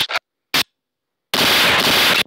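Gunfire rings out in a zombie video game: two short separate shots, then a longer rapid burst, each loud and close with a hard, crackling edge.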